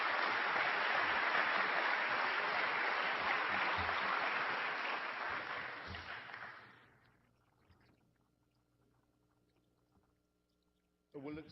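A large audience at a 2007 Seattle debate with Christopher Hitchens on God and religion breaks into dense, sustained applause. It holds loud for about six seconds, then fades away, and a brief sound cuts in near the end.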